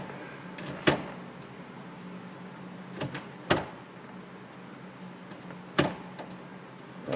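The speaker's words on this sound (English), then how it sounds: "Let me try to stick the keys in the door out here." A key slides into the door lock cylinder of a Chevy Impala that has a faulty lock system, giving several sharp metallic clicks and scrapes spaced a few seconds apart over faint background hum.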